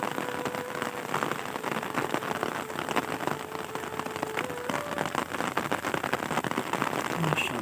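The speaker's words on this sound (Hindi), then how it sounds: "बारिश तेज़ हो गई है" Heavy rain pours steadily in a village in Punjab, Pakistan, a dense, continuous hiss of drops striking surfaces, close and loud, with faint tones in the background.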